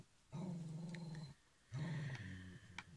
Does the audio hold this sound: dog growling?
yes